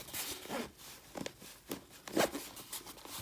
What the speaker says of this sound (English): and then we are ready to zip up